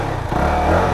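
FEKON 3GP 300cc sportbike engine running during warm-up, a continuous low, even mechanical drone with a slight swell in revs, heard up close for a brief moment.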